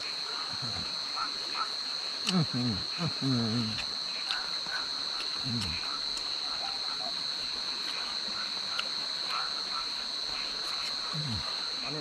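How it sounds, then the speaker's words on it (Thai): Night ambience at a cold streamside camp, with a steady high insect trill and scattered frog croaks and chirps breaking through at intervals, fairly faint and continuous. "ผมก็จะนอนฟังเสียงกบเสียงเครียดจนกว่าจะหลับนะครับ"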